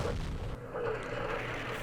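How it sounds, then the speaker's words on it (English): Artillery fire in the Vietnam war game Campaign Series Vietnam, a faint, muffled rumble of distant shelling with a low booming body rolling on for the short stretch, quiet and without talk. "I'll show you after the artillery comes in"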